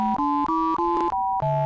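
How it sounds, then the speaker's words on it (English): SNES-style synthesized music played with pure sine waves, a short run of clean, steady tones stepping between pitches in a quick melodic sequence with brief gaps, heard alone. "Now we're hearing it with sine waves."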